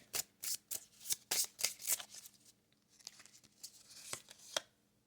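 A Kipper card deck is shuffled up close: a quick series of crisp riffling bursts and slaps, then a short pause and a few softer, scattered shuffles.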